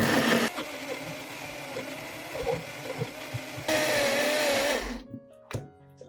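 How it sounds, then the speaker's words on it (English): An electric blender purees fresh tomatoes with salt into a smooth, slightly thick sauce, its steady loud whirring motor changing pitch as it runs, then cutting off near the end. "Then blend until the tomatoes become a smooth, fresh, and slightly thick sauce."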